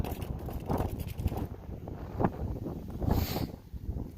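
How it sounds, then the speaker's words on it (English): Strong wind buffets an outdoor microphone in continuous low rumbling gusts, swelling and easing throughout, with faint clattering underneath. "This wind just blew it over."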